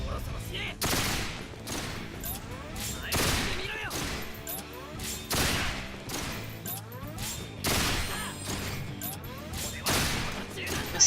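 Bursts of rapid gunfire in the video game Resonance of Fate come in repeated volleys roughly every two seconds over continuous game music and effects.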